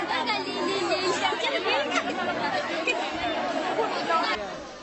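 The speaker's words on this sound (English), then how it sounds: "This is a sound of morning clinic." Crowd of patients chattering at a morning clinic in South Sudan, gathered outdoors beneath trees; a steady, dense babble of many overlapping voices at moderate distance, continuous throughout and easing slightly at the end.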